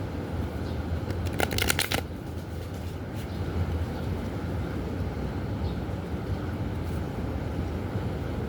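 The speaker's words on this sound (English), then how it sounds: "so let me shuffle these." Tarot cards being shuffled by hand, a quick burst of crisp riffling flutter near the start followed by softer handling, close over a steady low background hum.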